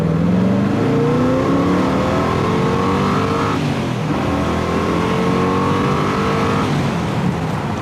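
A 1975 Corvette engine revs hard and loud while accelerating, climbing in pitch through a gear, easing briefly, then pulling up again, with no talking.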